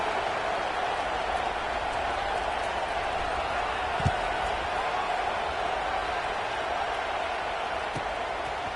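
Steady, broad roar of a large stadium crowd in the college football game NCAA 26, a constant wash of noise with one faint thump, under ongoing play-by-play commentary.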